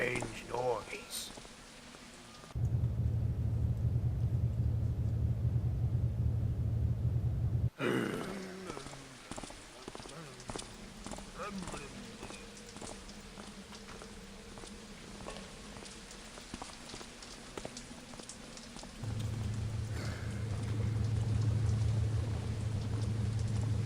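Rain falls steadily in a video game, a soft, constant patter and rush that drops away for a stretch and then returns. Low rumbling and scattered game sounds mix in, and a quiet voice talks over parts of it.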